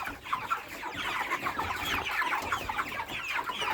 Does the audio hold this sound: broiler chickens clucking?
yes